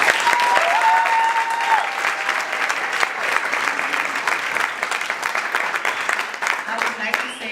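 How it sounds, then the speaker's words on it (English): Sustained applause from a crowd at a graduation scholarship awards ceremony, many hands clapping steadily throughout, with some voices faintly audible beneath it. "I think they deserve another round of applause."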